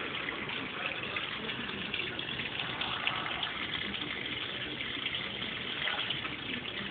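Water gushes and sloshes steadily inside a Brastemp Baby Mondial washing machine during its wash action with laundry sheets, a continuous, moderately quiet churning with no pauses.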